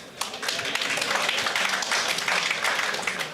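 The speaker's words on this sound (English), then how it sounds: "Thank you for the applause" Audience applause at a company success meet, a steady dense wash of many hands clapping that rises quickly and holds at a fairly loud, even level throughout.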